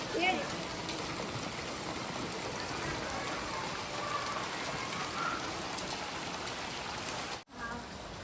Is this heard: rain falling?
yes